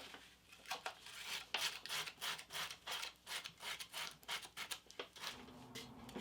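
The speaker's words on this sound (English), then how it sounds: "So I'm going to just cut it in the middle and then go in and sand around the inside of that." Sandpaper rubs in quick back-and-forth strokes around the inside edge of a hole cut in a thrifted wooden cutting board, a close, soft, rhythmic rasping with no voices.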